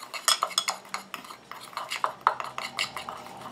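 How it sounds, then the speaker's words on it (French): A spoon stirs coconut milk and goat milk enzyme scrub powder in a bowl, giving quick, irregular metallic clinks and scrapes against the bowl, close and fairly crisp with no talking. "Donc je mélange déjà un petit coup."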